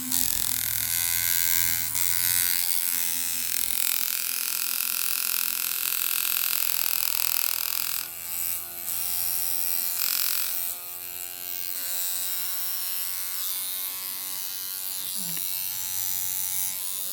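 A Jackhammer rotary tattoo machine runs on a battery adapter at 6 volts, giving a steady, close, continuous high-pitched buzz with a strong hum that holds for the whole stretch with only brief dips.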